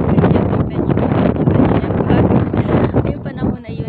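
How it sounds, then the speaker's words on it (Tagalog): Strong wind at an outdoor Sunday market in a caravan park roars steadily into the microphone, loud and buffeting throughout, with a voice talking beneath the gusts. "Sa sobrang lakas ng hangin talaga."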